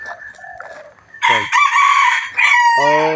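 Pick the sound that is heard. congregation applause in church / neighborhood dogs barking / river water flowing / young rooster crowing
young rooster crowing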